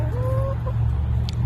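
Chickens clucking at a ranch, a couple of short, clear calls up close over a steady low background hum, no talking.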